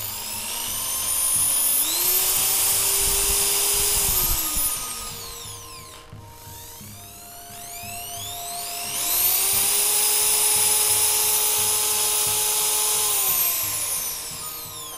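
A Bosch 17mm electric chisel hammer runs under no load, whining up to a high mechanical buzz, spinning down almost to silence, then revving up again into a steady loud drone.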